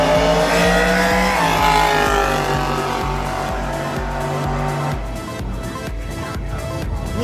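Drag race cars accelerate hard at Houston Motorsports Park: a loud, sustained engine roar with rising pitch that thins out as the cars pull away.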